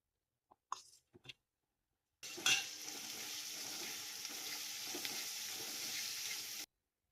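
Chopped tomatoes dropped into a pan of frying dal set off a sudden close sizzle that holds steady for several seconds. A few brief clatters come just before.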